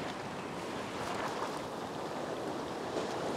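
Ocean waves wash over coastal rocks in steady, continuous broadband surf noise, with some wind buffeting the microphone, no voices.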